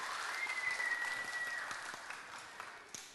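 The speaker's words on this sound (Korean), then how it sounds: "우리 수고한 친구에게 박수 우리 하겠습니다" Children clap together in a church children's class, a steady wash of applause that holds for a few seconds and then gradually thins out.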